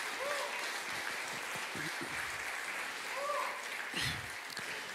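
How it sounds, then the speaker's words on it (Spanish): A church congregation applauds the children during a Sunday service, a steady wash of clapping that runs throughout at moderate distance, with faint voices and a few brief sung or spoken tones rising over it. "Recibámonos con un fuerte aplauso a los niños."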